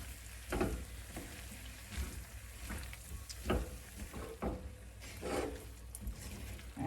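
Bell pepper and potato sabzi being stirred in a pan, with faint sizzling under irregular scraping strokes of a spoon, close and fairly quiet.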